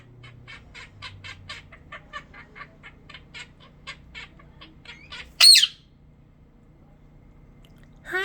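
A pet budgerigar chirps in a rapid series of short, bright tweets, with one louder squawk near the end, faint and close, with little talk.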